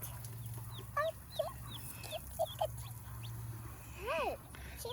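Chickens on a small organic backyard flock in Florida cluck in short, scattered calls, fairly close, with a louder drawn-out squawk near the end over a low background hum.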